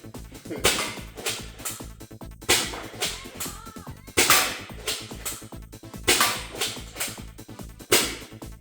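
A Nexus Pro X2 toy blaster fires in a regular series of about eight sharp cracking shots, roughly one per second, each followed by a short decaying whoosh, with faint background voices.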